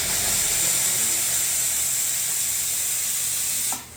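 An espresso machine's steam wand purges at 2.2 bars of pressure, making a loud, steady close hiss that runs without pause and then cuts off abruptly near the end.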